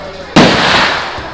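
One sharp gunshot from a shooting range near the Cu Chi Tunnels in Vietnam bursts loudly over outdoor ambience and decays slowly.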